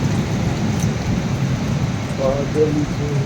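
Steady heavy rain pours throughout, a dense low roar with some faint voices murmuring in the background.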